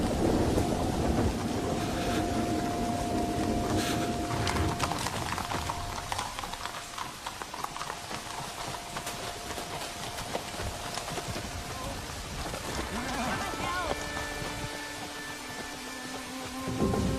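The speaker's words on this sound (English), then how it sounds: "Abbot, Marcus, we seek shelter from the storm" A heavy storm with rain pouring in a steady dense hiss throughout, with low rumbling swells in the first seconds suggesting thunder, loud and enveloping, with no talk.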